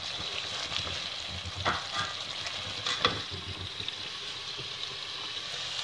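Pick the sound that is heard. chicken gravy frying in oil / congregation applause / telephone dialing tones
chicken gravy frying in oil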